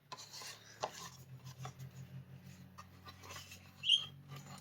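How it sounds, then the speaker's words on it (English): A fingertip rubbing over a gritty pressed eyeshadow palette makes a soft, close, rhythmic rasping with one sharper tap, quiet and without talk. "It's like when I rubbed across it, it's gritty."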